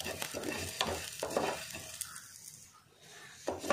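Mustard seeds, cumin and curry leaves fry and crackle in a pan for a Tulu-style jackfruit and chickpea curry, with a steady close sizzle broken by several sharp stirring scrapes and pops, with no talking.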